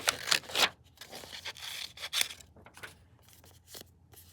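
Scissors cutting through sheets of copy paper: several crisp, scraping snips come in short bursts and then quieter pauses, recorded close and fairly faint.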